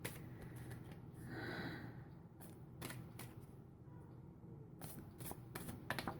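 A deck of playing cards is shuffled close up in a quiet room, with several quick riffling bursts and scattered soft card snaps spread through the stretch, and no voices.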